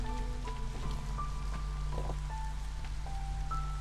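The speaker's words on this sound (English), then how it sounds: "It is always raining, hence the name Against the Storm." Steady, constant rain in the video game Against the Storm patters as an even hiss, with faint sustained tones drifting underneath.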